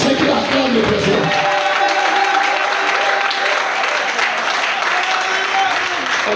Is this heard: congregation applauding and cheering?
yes